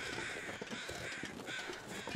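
Crows cawing in the survival video game The Long Dark, a steady run of harsh caws from several birds over a wintry ambient backdrop, fairly faint and without talk.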